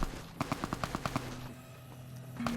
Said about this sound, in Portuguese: Tá disparando igual um louco aí